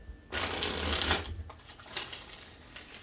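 A close, loud riffle of cards being shuffled, a rapid fluttering burst that tapers into softer shuffling.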